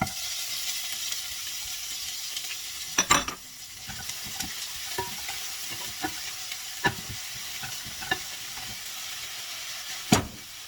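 Steady sizzling of chopped onions frying in hot oil, with occasional stirring clatters and a few sharp scrapes against the pan.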